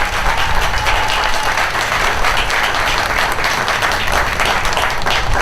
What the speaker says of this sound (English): Once again, a big round of applause for the Scouts, Rocky, and the Armada High School Marching Tiger Band.